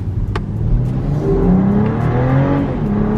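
A BMW loaner car's engine accelerates at about quarter throttle, a loud, steady drone whose pitch climbs smoothly over a few seconds, heard from inside the cabin with no talking.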